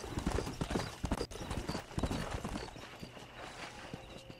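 Horse hooves clip-clop steadily as a rider gallops in the video game Red Dead Redemption, loud and continuous across the whole stretch.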